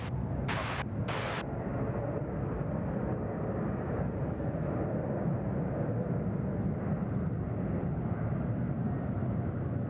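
A jet airliner at Sydney Airport gives a loud, steady broadband roar that holds through the whole stretch with no speech, and a couple of brief bright bursts stand out near the start.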